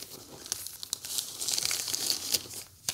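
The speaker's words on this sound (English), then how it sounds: "Let's zip that back up." Zipper closing on a DJI RS4 Pro camera gimbal case, a series of quick crinkly rasps and pulls, close and fairly quiet, with no talk.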